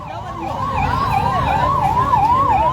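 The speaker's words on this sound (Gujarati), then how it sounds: "અત્યારે આ ચક્કાજામની વચ્ચે એક એમ્બ્યુલન્સ આવી છે" An ambulance siren on a road blocked by protesters, wailing in a fast rising-and-falling cycle, loud and close over a low rumble of traffic and crowd, with no clear talk.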